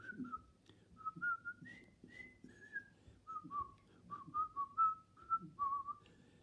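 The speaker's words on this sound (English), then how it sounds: "I was practicing the whistling." A person whistles a melodic tune, nearby and clear, with phrases rising and falling and short pauses between them, over faint low background hum.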